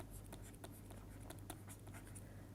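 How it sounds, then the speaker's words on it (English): Handwriting during a lecture: a steady run of quick scratchy pen or chalk strokes, close and fairly quiet over a constant low hum, with no talking. "here I am going to write"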